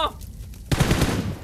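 An M416 rifle in PUBG Mobile fires a short burst of rapid, punchy shots close up. The shots follow a brief quieter moment with a faint voice trace at the start.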